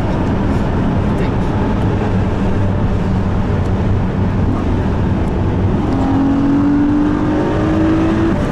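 A Honda NSX engine revs inside a tunnel, a loud, echoing roar with a rising tone near the end, heard close with people talking over it.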